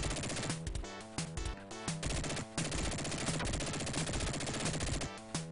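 Rapid bursts of gunfire in the Sega Genesis video game Dick Tracy, loud, dense and continuous, with stuttering repeated shots and short gaps, alone with no talk.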